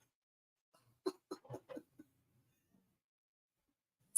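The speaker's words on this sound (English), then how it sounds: "I was just coughing away here" A few short, dry coughs from one person, close to a call microphone, spaced across about a second and then followed by quiet.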